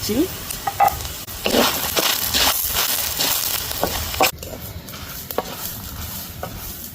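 Masala for a Mangalore-style fish curry sizzles steadily in a pan while being stirred, with repeated scraping strokes over a continuous frying hiss, close and fairly loud, no talking.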